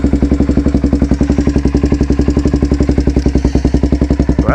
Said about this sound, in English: So let's go ahead, fire this thing up.